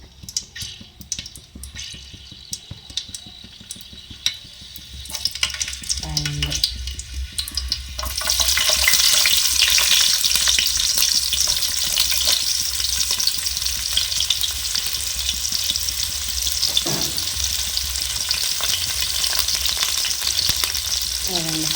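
Onions, curry leaves, green chillies, cinnamon and cloves fry in oil for a beef biryani, starting as a quiet crackle, then swelling into a loud, dense sizzle with occasional stirring clinks, close up.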